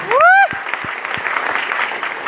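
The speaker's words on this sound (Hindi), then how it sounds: "तो जोरदार तालियां हमारे गुरुदेव के लिए।" An audience applauds a guru at a gathering in an Indian village: a loud rising whoop opens, then steady clapping continues at a moderate level.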